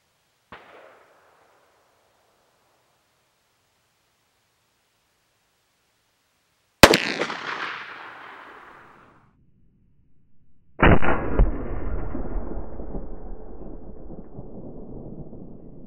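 .357 Magnum gunshots fired into ballistics gel outdoors: a faint pop early on, then two sharp, loud cracks several seconds apart, each trailing into a long fading echo.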